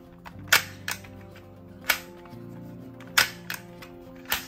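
A toy Glock pistol with shell ejection has its slide racked forward, giving several sharp plastic clicks and snaps spread unevenly over a few seconds, close up with no talking.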